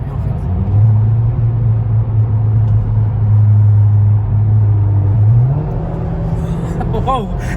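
A modified Audi A5 drones with a loud, steady engine and exhaust note, then its pitch climbs near the end as it revs up. A person speaks over the engine.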